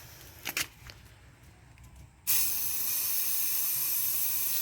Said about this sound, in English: we're going to start with spraying our first color, a hefty amount